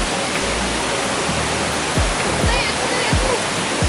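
The Perata river in Malaysia rushes steadily with a dense, continuous roar of flowing water. A few soft thumps sit underneath, and faint voices are barely audible beneath the loud, close torrent.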